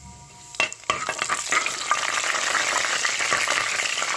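Cumin seeds dropped into hot oil in a pan burst into a loud, dense crackling sizzle after a couple of clinks, holding steady and close without any voice.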